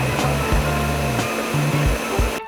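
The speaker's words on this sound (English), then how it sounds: "Now we'll blend." Motorized kitchen blender running steadily on chipotle and ancho peppers with onions, a loud continuous whirring drone with shifting pitch as the load moves, cutting off abruptly near the end.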